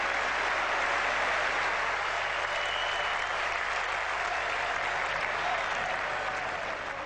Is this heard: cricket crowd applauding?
yes